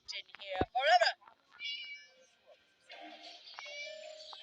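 A cat in the video game Scary Teacher lets out a few short, bright meows, set among sparse game sounds and quiet gaps.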